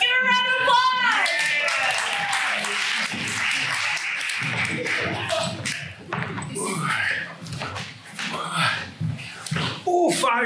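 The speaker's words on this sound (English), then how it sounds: "let's give a round of applause" A small group claps and taps in brisk, irregular bursts, with voices chattering over the applause.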